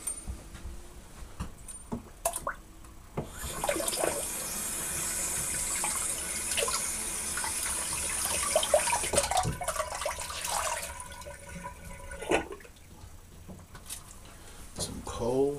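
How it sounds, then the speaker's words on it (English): Warm water running from a tap into a sink during a wet shave with an old razor: a steady, close splashing rush lasting several seconds, with brief handling noises before and after. "Do some warm water there."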